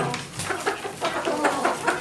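Farm chickens clucking near rabbits, a series of short, repeated clucks and squawks at moderate volume, close by and fairly busy, with no talk over them.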